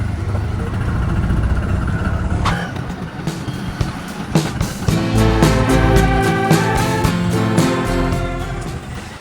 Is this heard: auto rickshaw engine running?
yes